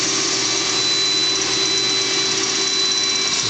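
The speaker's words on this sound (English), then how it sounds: "The lathe running" A Swiss lathe running, a constant close mechanical drone with a high steady whine on top, unchanging and loud throughout.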